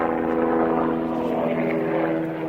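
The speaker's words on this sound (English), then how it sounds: "Helicopters, airplanes everywhere." Aircraft drone overhead in a Maryland neighborhood, a steady propeller-engine hum with droning harmonics that holds at moderate loudness throughout, then eases slightly at the end, with no talking.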